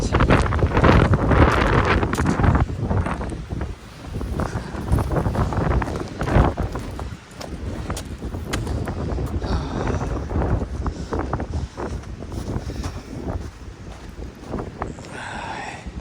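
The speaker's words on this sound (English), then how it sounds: "The wind tunnel in here is just phenomenally fast winds blowing through it." A blizzard wind roars through a narrow gap, with loud, continuous buffeting gusts striking the microphone from start to finish.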